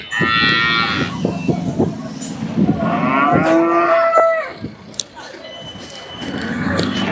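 Cattle, including the Kangeyam breed, moo repeatedly at the Kundadam cattle market, with long drawn calls rising over a busy outdoor din and faint voices in the background.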